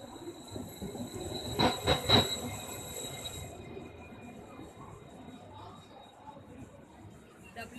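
An Indian passenger train hauled by a WDP 4D diesel locomotive on a Mumbai to Goa run rolls along with steady rumbling and a few sharp clanks in the middle, heard from on board under people chattering.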